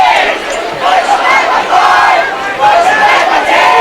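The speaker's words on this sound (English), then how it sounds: "Some old school cheering going on here." A crowd at a high school football game cheers and chants in steady, loud, rhythmic waves, filling the stands at a distance with overlapping voices.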